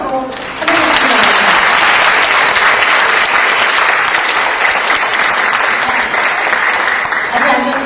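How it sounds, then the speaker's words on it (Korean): A debate final's audience breaks into loud applause after a brief quiet start, and the clapping stays dense and sustained, filling the hall to the end. "자, 뜨거운 박수로 환영해주시기"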